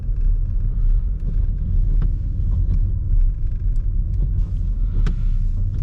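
Car engine rumbling steadily while driving on snowy roads fitted with Nokian winter tyres, a low continuous drone with faint road and wind noise and small knocks, heard from inside the cabin.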